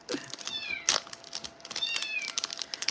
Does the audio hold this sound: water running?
no